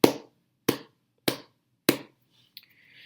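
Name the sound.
palmas sordas: muffled flamenco clapping with cupped palms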